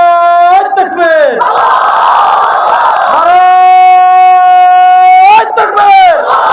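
A large crowd at an Islamic religious gathering roars a chant in answer to a leader's call over a loudspeaker, long sustained sung voices in strong swells, loud and echoing.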